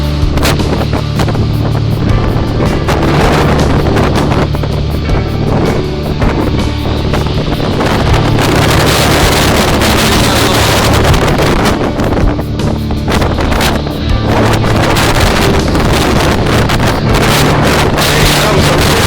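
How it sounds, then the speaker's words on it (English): Strong gusts of storm wind in the UK roar and buffet the microphone continuously, with crashing waves mixed into the steady loud rumble. "That was a really strong gust, probably about 50 mile an hour."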